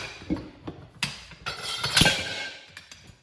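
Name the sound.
slide hammer striking tire bead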